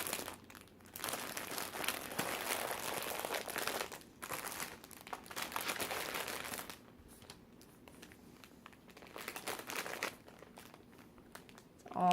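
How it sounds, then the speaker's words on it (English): Loud, close crinkling of plastic shopping packaging as yarn shop purchases are gathered up, coming in long bursts broken by short pauses. "I'm going to pause real quick so you don't hear the mountain of crinkling."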